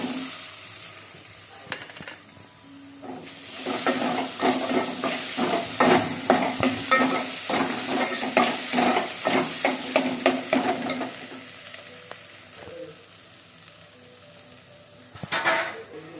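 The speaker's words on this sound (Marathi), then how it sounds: "तेलामध्ये हे सगळं परतून घ्यायचं" Cooked toor dal and spices sautéing in hot oil for a festival-style amti, with a steady sizzle and frequent rhythmic scrapes and clinks of a stirring spoon against the pot, loudest in the middle stretch.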